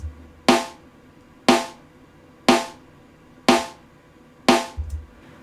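Five evenly spaced snare drum hits, about one per second, each a sharp crack with a fast-decaying ring, played through a compressor set to a 1:1 ratio so no compression is applied; close and clean, with no talking.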